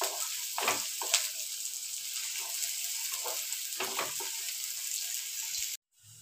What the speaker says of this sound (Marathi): आणि हे चांगले परतून घ्यायचे, थोडंसं लाल होतं